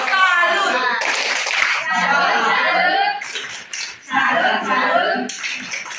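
Children in a classroom do a rhythmic clapping cheer in bursts, patterned claps alternating with talk and chuckles, close and fairly loud.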